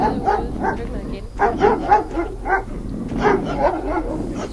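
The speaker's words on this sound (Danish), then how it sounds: "Og så er der en hund over på den anden side af hegnet." A dog barks from beyond a fence in a series of clear, moderately distant barks and yips in irregular bursts, with a person talking faintly underneath.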